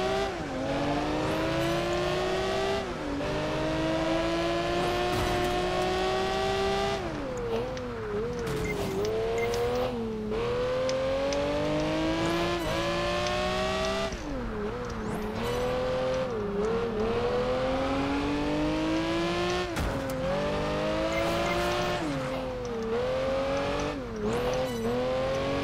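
A Lamborghini engine roars through a race in Project Gotham Racing 4, revving up and shifting repeatedly with brief tire squeals, loud and continuous throughout with no talk.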